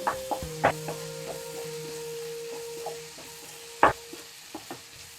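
Spices with capsicum and tomato being stirred and fried in a pan for egg podimas, with a spoon scraping and knocking against the pan in sparse clatters over a faint steady sizzle, close and with no voices.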